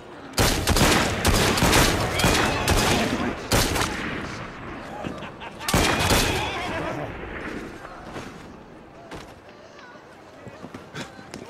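Rapid bursts of gunfire from Assassin's Creed Syndicate, a loud fusillade of overlapping shots in the first half that thins to scattered, fainter reports, with shouted voices mixed in.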